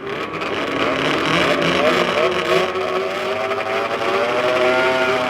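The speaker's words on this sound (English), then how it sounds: "Gentlemen, start your engines." Several power toboggan engines run together at the Canadian Power Toboggan Championships, a loud, steady motor drone with rising harmonics for the whole stretch, like revving snow machines on a race course.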